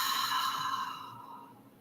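One long, slow breath is pushed out through the mouth as part of a calming breathing exercise, a close, breathy whoosh that fades gradually over nearly two seconds, with no talking.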